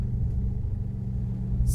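A Tesla Semi electric truck driving on the road, heard from inside as a steady low rumble and road hum, fairly loud and even, with no talking.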